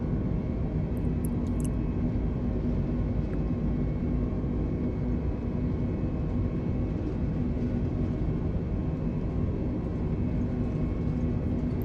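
An Airbus A320 rolls for takeoff in Microsoft Flight Simulator 2020, its engines giving a steady, dense broadband roar with a faint high whine that holds constant and unbroken throughout.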